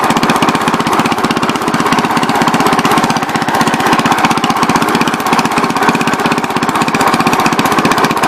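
A 1963 Cub Cadet garden tractor's small engine runs steadily while the tractor is driven, a loud, close, continuous rapid chugging with an even pulsing rhythm throughout and no talking.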